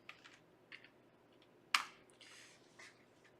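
Light, sparse clicks of typing on a computer keyboard, faint and close, with one sharper louder key tap midway followed by a few softer presses.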